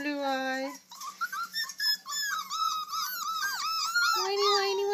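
Puppies whine and whimper in high, wavering, overlapping cries that rise and fall continuously, close up, with a person's voice speaking softly at the start and end.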